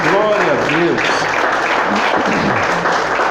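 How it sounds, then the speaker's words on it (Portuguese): A church congregation applauds steadily after a call to praise God, a dense wash of clapping with a few voices calling out near the start. "Quem crê pode aplaudir, glorificar, aleluia, glória a Deus."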